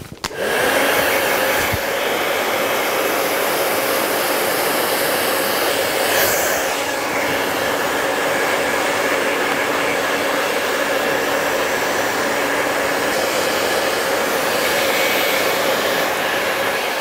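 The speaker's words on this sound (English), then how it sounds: "I'm just going to dry it off." Steady, loud whir of a hair dryer blowing continuously on a man's hair during a traditional haircut, with a brief start-up at the beginning and a constant airflow roar throughout, no talking.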